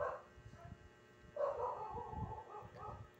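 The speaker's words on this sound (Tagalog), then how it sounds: "tumataw lang ating aso" A dog barks a few times in short, moderately close yaps and whines at a home, quiet between bursts, with no talk over it.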